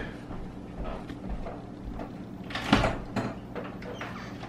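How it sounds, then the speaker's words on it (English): Someone handles and opens a door at home with close clunks and a sliding rattle, then a louder knock-like thump and a few softer bumps over low room noise. "I want to check the door."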